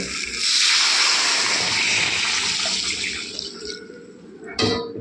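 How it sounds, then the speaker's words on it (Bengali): Water pours steadily into a pan of sautéed vegetables for an Indian egg curry, a continuous rushing splash that tapers off, ending with a brief clatter. "এখন আমি এখানে দিয়ে দেবো জল।"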